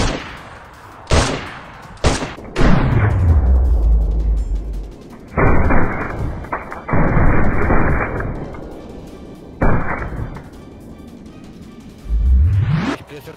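Loud gunshots in the video game DayZ ring out, single sharp blasts followed by bursts of rapid fire with echoing tails, spaced apart with quieter gaps between.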